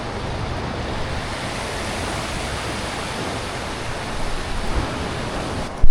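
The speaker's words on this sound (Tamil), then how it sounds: "இதுதான் அந்த பிரிட்ஜு, இரும்பு பிரிட்ஜு. கீழே தண்ணி போகுது." Water rushes steadily beneath an iron bridge in a mountain valley on the road to Pangong Lake, a broad, even roar of flowing water with a constant wash and no talking.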